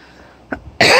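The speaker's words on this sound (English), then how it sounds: "Pardon my coughing." A single sharp cough, followed by a sudden louder burst of noise right after it, close and brief.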